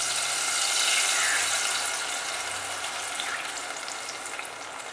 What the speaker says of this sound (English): Next I'm going to add tamarind water.